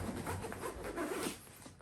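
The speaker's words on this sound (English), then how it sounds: "All right, and we'll zip it back up here." A backpack pocket zipper being pulled closed, a quick close rasping zip lasting under two seconds, quiet and alone.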